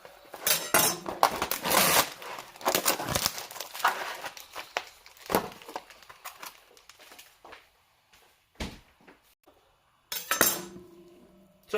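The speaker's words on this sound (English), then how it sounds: "I'm just going to open the pack" A plastic pack of raw chicken wings being opened in a kitchen, with sharp crinkling, tearing and clattering bursts that come in uneven clusters and then thin out into pauses and occasional handling noises.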